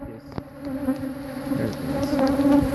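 Honeybees swarm noisily around a hive opened for a split with the queen in view, a dense, steady buzz hanging close throughout, swelling slightly toward the end, with a sharp click early on.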